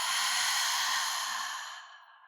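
A long, deep breath out during a yoga breathing exercise, one steady breathy exhale close to the mic that fades gradually over about two seconds, with no talking.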